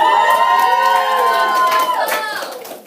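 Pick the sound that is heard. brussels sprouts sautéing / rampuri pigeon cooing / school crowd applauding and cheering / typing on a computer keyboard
school crowd applauding and cheering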